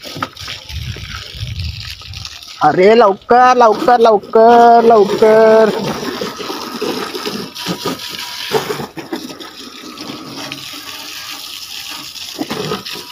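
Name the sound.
water being sprayed while a tank fills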